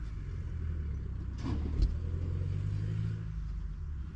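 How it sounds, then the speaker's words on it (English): A truck drives off with its door wide open, a low engine rumble that swells briefly near the middle with a clunk, then settles into a steady moderate drone, with no talk. "truck just driving off with its door wide open"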